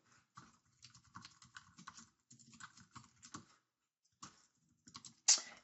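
Quick bursts of typing on a computer keyboard, close and clicky, in short irregular runs with a pause near the end and a louder final keystroke.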